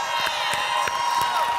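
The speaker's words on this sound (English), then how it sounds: "Give her a warm round of applause" A town hall audience at a political conference cheers and applauds for a speaker, a loud, continuous wash of clapping with whoops and shouts rising through it, no single voice standing out.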